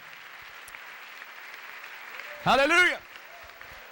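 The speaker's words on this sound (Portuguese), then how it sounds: "Queremos deixar aqui uma salva de palmas" A church congregation bursts into applause, a dense half-second wave of clapping rising over a quiet room and fading quickly, with a voice calling out over it.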